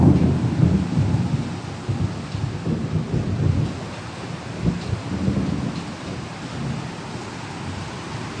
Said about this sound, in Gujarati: ફૂલ સ્પીડમાં મેઘરાજા વરસી રહ્યા છે અને સાથે સાથે જે વીજળીના કડાકા થઈ રહ્યા છે